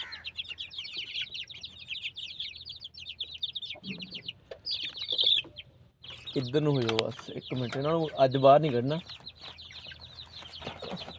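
Chicks of the hen Noor Jahan, of the Undertaker line, keep up a dense run of high cheeping close by, while someone talks over them in the second half.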